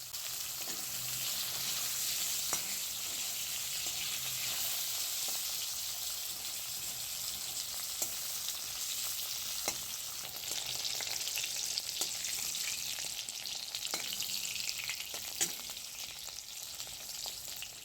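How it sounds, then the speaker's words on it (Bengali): Halved pointed gourd (potol) fries in oil over a cumin tempering for a thin koi fish curry, a continuous soft sizzling hiss with occasional faint clicks and light stirring sounds throughout. "সেই কেটে নেওয়া পটলগুলো তেলে ভেজে নেওয়া হবে"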